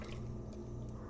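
Homemade nut milk, blended and poured into a straining bag, dripping and seeping through quietly, with soft wet trickles and a few small squelchy drops under a low background hum.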